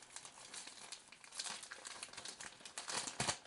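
Plastic packaging crinkles and crackles steadily while a tabletop terrain set of 6mm miniature road junctions is unboxed, with brighter rustling bursts toward the end and no speech.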